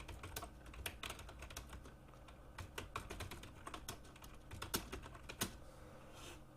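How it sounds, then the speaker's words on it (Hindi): Keys clatter on a computer keyboard as text is typed into Microsoft Word, a steady run of close, light clicks with a few louder strokes and no voices. "सबसे पहले कुछ भी हम यहाँ पे टाइप कर लेते हैं"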